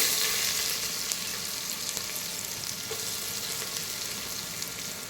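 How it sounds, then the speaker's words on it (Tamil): Onions fry in a mix of oil and ghee at the start of a mandi chicken dish, a continuous soft sizzle that is loudest at first and carries on evenly without speech. "அதுக்கு வந்து ஆயில் கொஞ்சம் நெய் கொஞ்சம் போட்டிருக்கோம். அதுக்கப்புறம் ஆனியன் போட்டுக்கலாம்"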